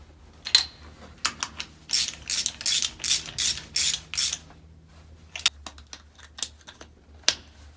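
A ratchet tightens spark plugs on a Jeep FC-150, clicking in quick bursts and then a steady run of about seven loud, evenly spaced strokes, with a few scattered clicks and handling noises afterward.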